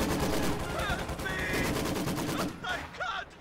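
Rapid bursts of machine gun fire from a Maxim in a World War II strategy video game, dense crackling shots continuing for a few seconds, with a commentator talking over them.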